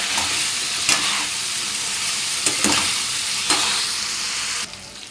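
Chicken fry sizzles steadily in a pan, with a constant hiss and a few soft scraping stirs spread through the few seconds, no voices present.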